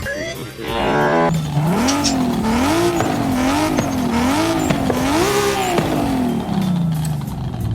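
A BMW M3 GTR engine fitted with a sport turbo, revving loudly and continuously with rising and falling pitch sweeps, close up and without talk.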